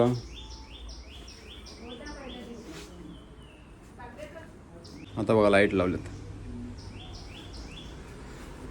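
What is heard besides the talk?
birds chirping in a garden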